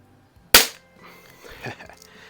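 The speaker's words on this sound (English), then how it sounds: "We'll shoot that, and then we'll do some pellets." A Crosman 760 first-variant air rifle firing a BB, one sharp, loud close crack followed by faint handling noise.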